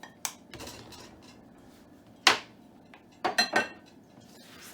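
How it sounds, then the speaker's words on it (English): Sugar, salt and baking powder go into a mixing bowl for baking, a few sharp clinks and knocks of spoons and containers against the bowl, close and separated by quiet gaps. "Next we're going to go ahead and add our sugar and our salt and our baking powder."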